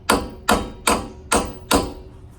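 A hammer whacks a truck shock bolt on a black Ford F-150 five times at an even, roughly half-second rhythm, each blow a sharp, close metallic strike with a short ring.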